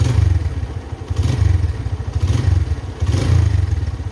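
The engine of a 2008 first-generation Honda Tiger motorcycle is revved in a series of short, pulsing throttle blips over a low, lumpy idle, with a clattery, uneven rhythm and no talking.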